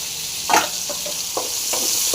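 Green chillies fry in hot sesame oil in a pan, giving a steady, close sizzle with a few brief stirring scrapes and no talk.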